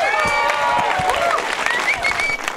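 A festival panel audience at Fantastic Fest applauds steadily with cheers and whoops rising above the clapping, loud and sustained.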